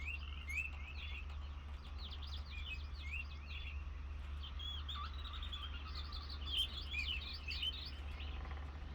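Repeated chirps and tweets from several birds in the wooded Channelwood area of the game realMyst, scattered across the clip over a steady low ambient hum with no talking.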